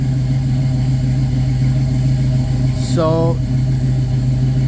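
A 1966 Pontiac Catalina wagon engine on Sniper fuel injection idles steadily off the throttle with the idle air control parked, a smooth low rumble with a brief rising whine near the end and a short spoken word over it.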